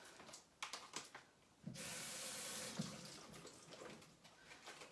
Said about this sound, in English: So I'm gonna rinse off these blueberries.